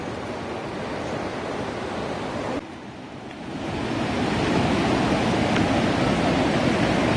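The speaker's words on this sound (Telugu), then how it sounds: "almost near to water fall" Continuous rushing roar of falling water at Talakona waterfall in Andhra Pradesh, a steady broadband wash that briefly dips and then swells louder as it draws nearer.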